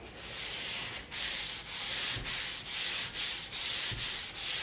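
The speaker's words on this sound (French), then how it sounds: "on ponce suffisamment bien nos supports" A wooden support is hand-sanded in steady back-and-forth strokes, about eight rhythmic rasping passes with brief pauses between them, close and fairly quiet, with no talking.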